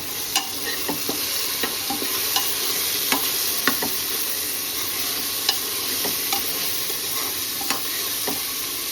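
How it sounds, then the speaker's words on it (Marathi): Ginger-garlic-chili paste sautés in hot oil for chicken rice, a steady broad sizzle with frequent scraping stirs and clicks of a spoon against the pan, close and continuous with no talking. "अदरक लसूण मिरची पेस्ट बनवली ती सुद्धा टाकून घेऊ मस्त परतून घेऊ"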